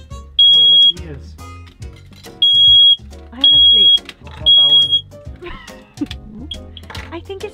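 A household smoke alarm set off by cooking smoke inside a camper van sounds in four loud, piercing electronic beeps, each about half a second long, while people talk and exclaim in between and over it.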